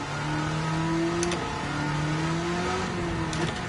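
Aston Martin engine in Gran Turismo 7 revving under load, a loud sustained drone whose pitch climbs steadily, dips at a gear change, then rises again, with no voices.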